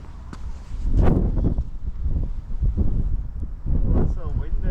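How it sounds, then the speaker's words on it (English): Strong wind buffets the microphone on an exposed North Yorkshire hillside at a wild camping spot, loud gusty roaring in waves, with a voice speaking over it. "Oh, it's so windy."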